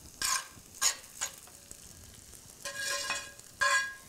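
Onions frying in a cast iron skillet, heard as short scraping stirs and bursts of hissing sizzle up close, separated by quiet gaps, with a longer sizzling stretch near the end.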